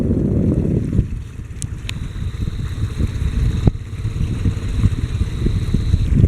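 A small local fishing boat with a little inboard diesel or gas engine putters along, a steady low chugging drone that stays moderately loud and close throughout, with no talking.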